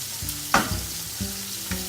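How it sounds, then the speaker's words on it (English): Chinese five-spice sizzles briefly in a hot pan with oil, giving a short, near frying hiss and stirring scrape, heard alone. "I'm just going to fry that, give that 5-spice a bit of a second in the pan."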